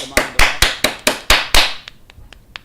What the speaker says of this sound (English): that's my snooty, snobby Oscar clap